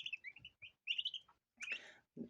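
Young chicks in a small indoor pen give a few faint, high, short chirps in quick bursts, close by in a quiet space.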